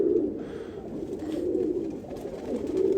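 A pigeon of a breed raised by fanciers coos in soft, repeated low throaty calls that carry on steadily for a few seconds, close and fairly loud, with no one talking.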